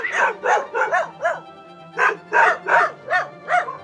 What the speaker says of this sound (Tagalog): Hindi naman kakagat, tahol lang ng tahol.